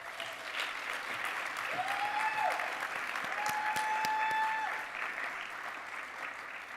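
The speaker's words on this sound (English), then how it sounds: "Let's give them one more round of applause." An audience at a celebration applauds warmly, with dense, sustained clapping that holds steady for several seconds before easing slightly, a few faint tonal sounds drifting underneath.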